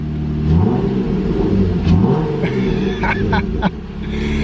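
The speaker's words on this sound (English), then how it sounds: "That Flow Pro exhaust sounds so good." A modified Jeep fitted with a Flow Pro exhaust rumbles nearby, a deep, loud engine note with a few short revs over steady idle.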